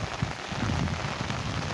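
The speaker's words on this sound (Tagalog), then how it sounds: "basa na ako ng ulan" Steady rain falls at ten in the morning at a rural Filipino home, a dense, continuous patter and hiss on surfaces, close and even throughout, with no voices.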